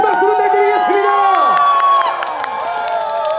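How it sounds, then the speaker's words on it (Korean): Loud crowd cheering and whooping at a festival concert in Nonsan, South Korea, sustained and lively, with voices and music-like tones mixed in. "다시 한번 큰 박수 부탁드리겠습니다."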